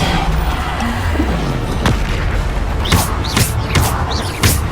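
Bombarda blasting spells explode in Hogwarts Legacy combat: several booming, crashing blasts land one after another over a dense, loud battle din.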